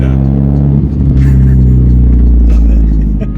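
A Nissan Pulsar GTiR four-cylinder car engine revs loudly and steadily at close range, a deep rumbling drone with rising and falling pitch over a few seconds.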